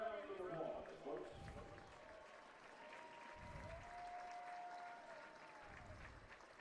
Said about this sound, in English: Let's have a big round of applause, folks.